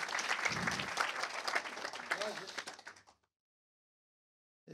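A room of attendees at a software craftsmanship meetup claps for a volunteer, dense applause with a few voices that fades out and stops abruptly, followed by silence.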